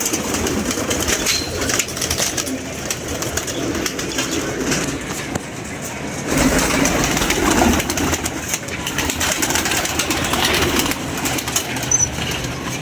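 Pigeons coo softly in a busy, noisy setting, with rustling and occasional wing flaps under a continuous rumbling background; no clear speech.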